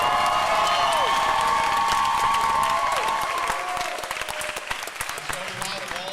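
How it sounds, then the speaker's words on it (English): Theater audience clapping and cheering for the cast, a dense wash of applause with whoops that thins and fades after a few seconds. "please cheer for them right now."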